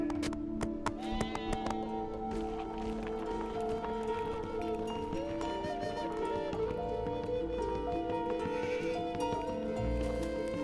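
Blue sheep bleating on Himalayan cliffs over a bed of steady tonal music, with light taps of hooves on rock in the first few seconds.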